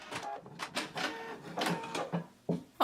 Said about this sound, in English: we're going to take it to the machine and we're going to top stitch right along this lower pressed edge